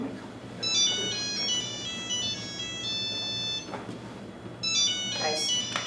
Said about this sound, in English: Oh, my phone is singing.